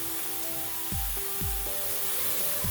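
Vegetables sizzle in a pan on high heat, a steady hissy fry running throughout, overlaid by repeated tonal scraping sweeps that drop in pitch, like a utensil stirring.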